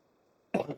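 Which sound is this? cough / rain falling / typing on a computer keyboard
cough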